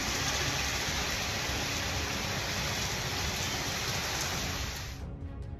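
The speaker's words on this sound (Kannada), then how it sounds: "ಆಲಿಕಲ್ಲು, ಮಿಂಚು, ಗುಡುಗು, ಸಿಡಿಲು ಸಹಿತ ಭಾರೀ ಮಳೆಯಾಗಿದೆ" Heavy rain pours down in a storm in Hassan district, Karnataka, a loud, even roar of drops hitting surfaces that holds steady for about five seconds before cutting off abruptly.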